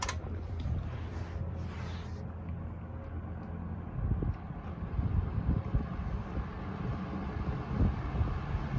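Two electric fans, a Wells Royal S-122 and a Robeson Evenflow, one with three blades, blow a steady broadband whoosh. The airflow swells noticeably partway through and holds there, close and constant, with no one speaking.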